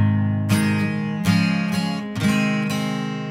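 Acoustic guitar strummed through the verse chords of a song, four bright strokes spaced across the bars with sustained ringing between, close and steady.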